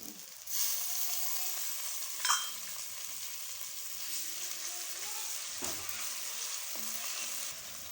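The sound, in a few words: ginger garlic paste frying in a pan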